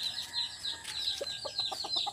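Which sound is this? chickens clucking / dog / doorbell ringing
chickens clucking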